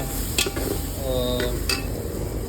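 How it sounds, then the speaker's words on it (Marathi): Whole spices frying in oil inside a pressure cooker make a steady close sizzle, with a few brief metallic clinks of a spoon against the pot and no speech. "आता कुकरमध्ये थोडेसे अख्खे मसाले टाकल्यात"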